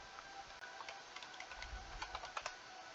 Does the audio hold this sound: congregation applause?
no